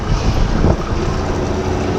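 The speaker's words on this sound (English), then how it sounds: "it's a bit windy out there today" Wind buffets the microphone in a constant low roar with gusty rumbling, loud and close, no voices.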